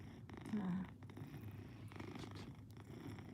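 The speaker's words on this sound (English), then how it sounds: "He's a very clean, neurotic cat." A cat purrs steadily and close up while being brushed, a soft continuous rumble heard alone with no talking.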